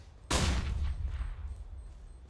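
A burst of rapid gunfire erupts in a Counter-Strike match on the Cache map during a triple kill, sharp and loud at first, then rattling on in overlapping shots with a trailing echo.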